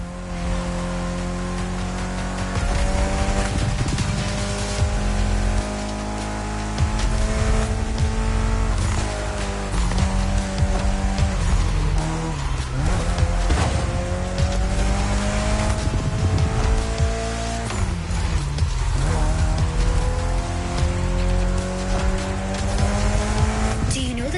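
Mitsubishi Evo X racing in The Crew Motorfest, its engine loud and close as it revs and shifts through gears, with stretches of tyre squeal and skidding in corners.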